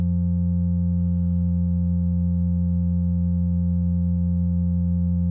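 Steady FM synth tone from Bitwig's FM-4 device with its Hertz value slightly offset, a sustained harmonic drone holding evenly for several seconds, a brief burst of added texture early on, no voices.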